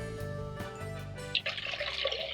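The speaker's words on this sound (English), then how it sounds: "I'm going to add in about 4 cups of water." Water is poured into a cooking pot on the stove, a bright splashing trickle that starts partway through after quiet background hum, fairly faint and close.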